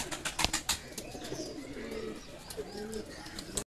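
Imported teddy pigeons coo in low, rolling murmurs, a few soft coos repeating close by, with scattered faint chirps and light clicks in the background.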